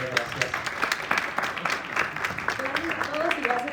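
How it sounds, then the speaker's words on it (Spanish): An audience at a manufacturing forum gives a brisk round of applause, steady and fairly near, as a voice talks over the clapping. "Fuerte aplauso para Dinora, gracias."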